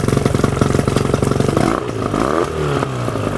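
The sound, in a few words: 1999 Johnson 25hp 2-stroke outboard motor running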